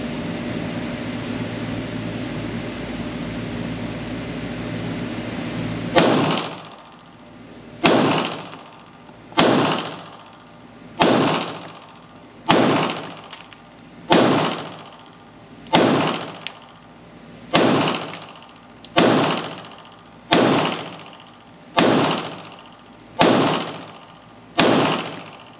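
Steyr Arms L9-A2 MF pistol firing about thirteen sharp, loud shots at a steady pace, each with a short ringing decay, following several seconds of steady background hiss.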